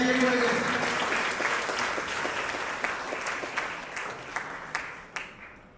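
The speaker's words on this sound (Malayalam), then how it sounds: "എല്ലാവരും നല്ല കയ്യടി കൊടുക്കുക." An audience breaks into sustained applause at a Silver Jubilee celebration for the Venerini Sisters, a dense wash of clapping that starts full and gradually thins and fades, with a few sharper individual claps near the end.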